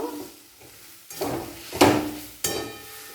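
Peanuts and spices, including Kashmiri chili powder, stirred in a pan for vegetable chops: a few distinct scraping strokes against the pan over a soft background sizzle, close and moderately loud.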